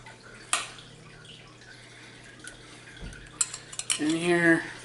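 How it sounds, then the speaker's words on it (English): Roasted broccoli and cauliflower scraped back into a pan of chickpeas, with a sharp utensil clink, scattered soft knocks, then a cluster of clatters and a brief rising squeak near the end, close and fairly quiet. "And then we're going to transfer back in our roasted vegetables."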